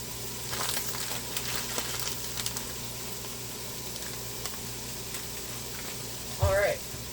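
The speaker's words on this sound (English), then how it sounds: "You pretty much just want that meat to get browned a bit so that majority of the blood is out of it" Meat for a pasta sauce browning in a pan, a steady low sizzle running throughout with a brief louder stir or clatter near the end.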